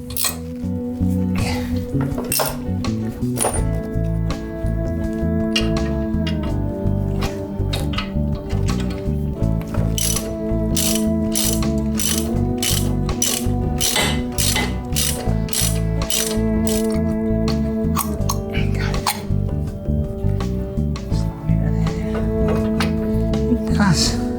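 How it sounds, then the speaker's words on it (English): A ratchet tightens the bolts on the frame that holds a Mini Cooper's brake caliper, giving long runs of close, rapid clicking with short pauses between strokes and occasional metallic clinks. "It's just tightening the bolts that hold that frame on that holds the brake caliper."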